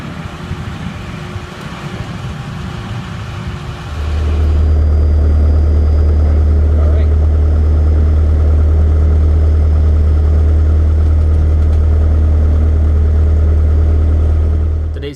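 Cessna 152 piston engine idling while taxiing to the runway at a small airport, a low steady drone that swells suddenly after a few seconds and then holds loud and constant, with faint cockpit background beneath.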